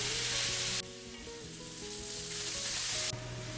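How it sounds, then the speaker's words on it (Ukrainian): Loud, steady sizzling of minced meat frying in a hot pan, broken up with a spatula, a continuous crackling hiss with a brief lull in the middle. "Розбиваємо на маленькі шматочки лопаткою і смажимо, поки фарш не змінить свій колір на коричневий."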